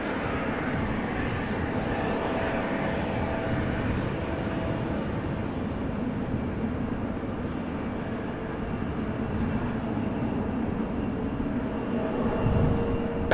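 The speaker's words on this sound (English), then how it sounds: "It's going to take off from runway 24." An airliner taking off from runway 24 at Amsterdam Schiphol Airport, a steady broad engine roar heard from a distance that holds level for the whole stretch without a break.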